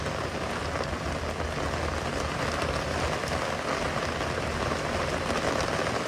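Steady, dense rain pours down on and around an open-air Jeep Colorado with a continuous close hiss and patter of drops and no voices.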